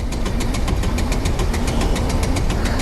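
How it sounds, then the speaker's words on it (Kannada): A 2023 Bajaj NS200 motorcycle engine runs at full throttle, a loud, steady, close buzzing roar with a pulsing beat and no pauses. "ಸೊ ಫುಲ್ ಥ್ರಾಟಲ್ ಕೊಟ್ಟಿದ್ದೀನಿ."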